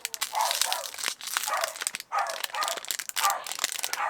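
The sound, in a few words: dog barking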